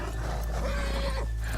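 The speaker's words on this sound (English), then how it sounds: "let's leave the horses here off the main drag" A horse in the Red Dead Redemption 2 video game gives a short, close whinny over soft clip-clopping hooves and steady town ambience.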